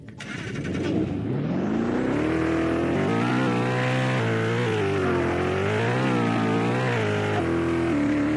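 The By More car in the video game Valmoria revs up with a rising engine whine, then holds a loud, continuous drone that wavers in pitch as it drives and turns.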